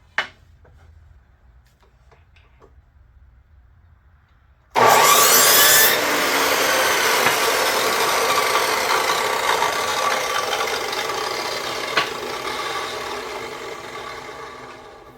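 A power saw cutting wood pieces for a foil and wrap dispenser starts abruptly after a quiet stretch and then runs as a loud, steady whine and rasp through the wood, lasting about ten seconds.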